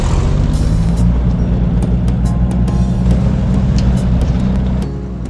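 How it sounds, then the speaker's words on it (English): A homemade go-kart built from assorted car parts drives along, its engine a steady loud rumbling drone throughout, close up, easing slightly near the end, with no talk. "This is the go-kart."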